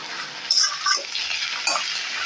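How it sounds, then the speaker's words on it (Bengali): Bean and poppy seed curry with green and red chillies being stirred in a pan, giving a soft, close scraping with a few light clinks of utensil on metal over a faint sizzle, no voices. "আর উপর থেকে দিয়ে দিব কাঁচা পাকা লঙ্কা। দিয়ে ভালো করে নেড়ে চেড়ে নেব।"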